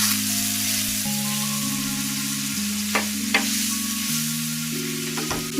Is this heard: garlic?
yes